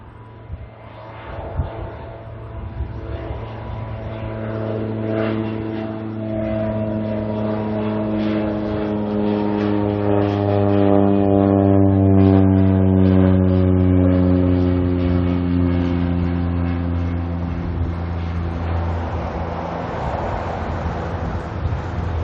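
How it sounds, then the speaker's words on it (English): A Cessna Caravan turboprop departs Auckland airport, its steady engine drone with a rising whine building gradually and holding loud at moderate distance, with no talk over it. "Got our next caravan making its way out."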